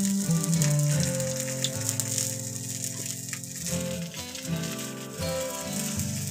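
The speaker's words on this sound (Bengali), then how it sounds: "কালো জিরে ফোড়ন দিয়ে দিয়েছে মা" Nigella seeds (kalo jeere) crackle in hot oil for a tempering, a steady close sizzle and hiss running throughout beneath background music.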